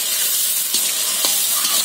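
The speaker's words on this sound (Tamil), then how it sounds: "எல்லாத்தையும் சேர்த்து நல்லா வதக்கிக்கலாம்." Onions and green chillies sauté in a hot pan with a continuous bright sizzle, broken by a few soft scrapes of a spoon stirring them, close and with no voices.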